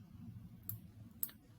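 Two crisp computer mouse clicks, spaced about half a second apart, sound close and isolated over a low quiet hum.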